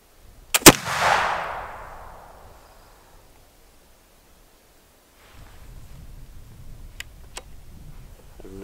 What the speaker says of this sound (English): I'm going to try and shoot it one more time.